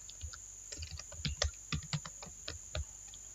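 A password is typed on a computer keyboard in a short run of distinct, close key taps at an uneven pace, quiet with a steady faint hum behind, and no talking.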